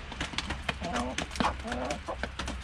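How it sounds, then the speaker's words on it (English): Hens clucking in an outdoor yard on a cold day, a busy flock giving short, repeated, chattering clucks that continue steadily and fairly close throughout. "Let you look at the chickens for a minute."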